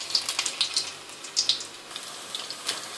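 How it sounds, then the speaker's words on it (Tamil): Cauliflower pieces frying in hot oil for Gobi Manchurian, a crisp crackling sizzle with scattered sharp pops over a soft hiss, close and steady. "என்னோட லாஸ்ட் பேட்ச் ஆஃப் காலிஃபிளவர் வந்து இங்க ஃப்ரை ஆகுது."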